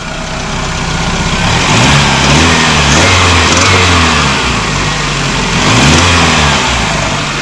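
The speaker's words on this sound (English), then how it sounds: "that's a good running little engine right there" A 20-year-old Toyota Camry four-cylinder engine with 200,000 miles runs loud and close, revving up and down in smooth waves over a steady rumble.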